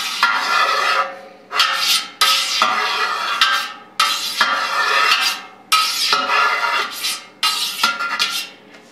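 A knife slicing through feta cheese curd in a pot, heard as a series of scraping, swishing strokes that come in regular bursts, close and fairly loud with short pauses between them.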